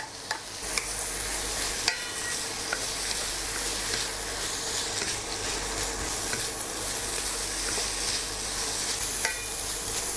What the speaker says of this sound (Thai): เดี๋ยวเราจะนำข้าวลงไปคลุก อันนี้นะครับ ก็ข้าว ลงไปคลุกนะครับ